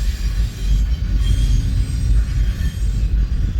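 A westbound intermodal freight train rolls past a rail yard in Fremont, Nebraska, its cars giving a loud, steady rumble with a squealing wheel tone riding above it the whole time.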